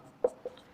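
Chalk or marker strokes on a classroom board during a chemistry lesson: two short, faint scratches close together, alone without talk.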